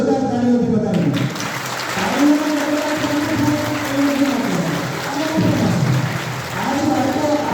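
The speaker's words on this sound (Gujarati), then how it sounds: "આપણે જોરદાર તાળીઓથી બતાવીએ." Loud applause from a crowd at a primary school ceremony, continuous clapping throughout with voices talking over it.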